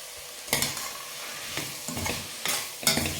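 Soaked chickpeas and masala sauté in a pan, a continuous close sizzle broken by several scraping strokes of a spatula at a loose, repeated rhythm.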